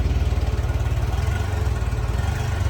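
A 1994 Honda Goldwing 1500 Aspencade motorcycle engine idles steadily up close, with a low, even pulsing throb and a slight exhaust leak at the muffler, with no voices over it.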